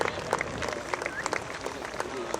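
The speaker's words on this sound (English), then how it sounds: "Give him a big round of applause." A crowd claps and applauds at the EAA AirVenture air show, a fairly faint, continuous patter heard at a distance, with a loudspeaker announcer talking over it.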